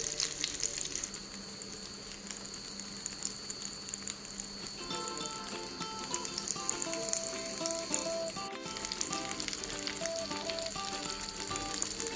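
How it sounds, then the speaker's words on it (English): Mackerel shallow-fry in oil over a medium flame, giving a steady, dense sizzle and crackle that carries on without a break, close by, with faint kitchen hum and a brief knock partway through. "Shallow fry the mackerels until it turns to crispy and brown on both the sides on medium flame"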